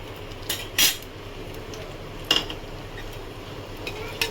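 Metal utensil scraping and clinking in a pressure cooker while cumin seeds and bay leaf are stirred in ghee: a few sharp clinks and scrapes over a faint, low background, with no talking.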